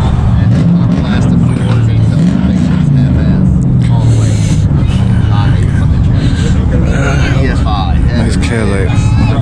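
A Cadillac with a V8 rolls past at a Greenville cars and coffee meet, its engine a steady low rumble amid a busy outdoor crowd, with people talking and chatting nearby throughout.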